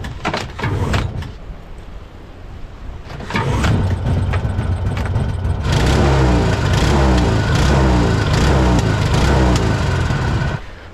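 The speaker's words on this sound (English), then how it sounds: "Hope I can get the engine going." A Mokai jet-powered kayak engine on an Alaskan shore, with a few sharp cranking bursts followed by the small motor catching and running loudly and steadily at close range.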